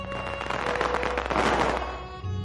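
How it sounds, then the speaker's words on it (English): Chinese firecrackers bursting in a dense, rapid crackling barrage, loud and continuous for a couple of seconds before thinning out at the end. "The firecrackers are used basically is because of the loud noise they have"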